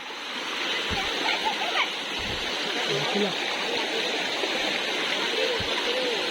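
Chingudia waterfall in Odisha pours with a constant close roaring rush of water, loud and unbroken throughout, while people's voices occasionally sound beneath it.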